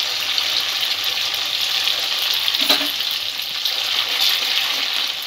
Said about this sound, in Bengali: এটা একটু ডিপ ফ্রাই করতে হবে নুডলসগুলো।